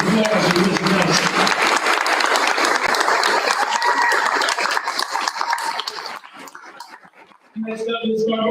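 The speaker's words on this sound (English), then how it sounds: "round of applause for Miss Nelson" Applause from the audience at a school board meeting awards presentation, loud clapping mixed with crowd chatter and laughter that thins out and fades, then a voice speaks at the end.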